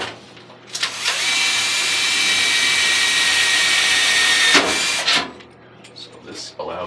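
A power drill bores holes for a combustion safety pressure probe, a loud steady whine running about three and a half seconds before cutting off, with faint talk before and after.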